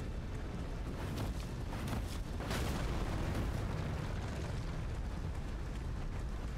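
A bomb explosion in Elden Ring during the Godrick the Grafted fight, heard as a dense, loud, roaring blast with crackling bursts that sustains as a broad rumble throughout.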